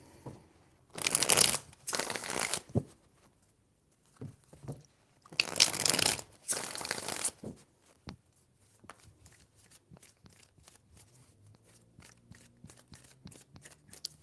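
A deck of tarot cards is shuffled hard in a few loud, dense bursts, followed by softer, scattered taps and flicks of the cards being squared and handled, with no voices.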